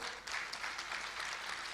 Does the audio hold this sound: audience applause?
yes